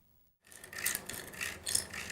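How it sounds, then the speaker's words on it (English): A table tennis ball being sawn in half, a steady scratchy rasping that starts abruptly after a brief silence and continues close up, swelling in short strokes. "Vic, I'm sawing a table tennis ball in half"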